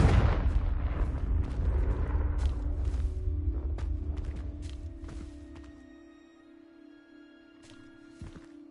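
A Confringo fire spell bursts in Hogwarts Legacy, a loud booming blast with rumbling low roar that slowly dies away over several seconds, leaving faint magical tones and small clicks trailing behind.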